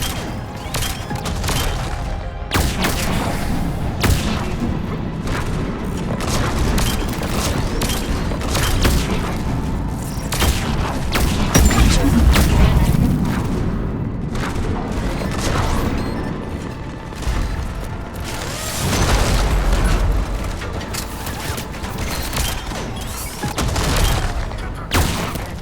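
Cannon fire and explosions in the video game Mass Effect 3, with repeated heavy booms, bursts of gunfire and mechanical clatter. They come in loud waves that swell and ease across the stretch, with no talk.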